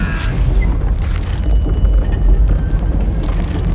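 A gunpowder and dynamite explosion in Call of Juarez Gunslinger rolls as a loud, continuous low rumble that holds steady for several seconds without a sharp attack.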